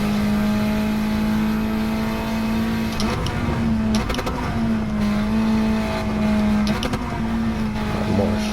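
A Honda Civic Type R FK8 holds a steady, loud engine drone in third gear on a fast track lap, pulling hard with brief shifts in pitch and a few mechanical clicks, heard from inside the car.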